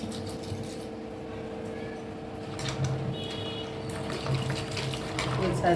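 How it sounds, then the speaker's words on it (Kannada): Water poured into a pot over vegetables including bottle gourd, a soft continuous trickling and splashing under a low kitchen hum, building slightly toward the end. "ಸೊ ಇವಾಗ ವಾಟರ್ ಹಾಕ್ತೀನಿ"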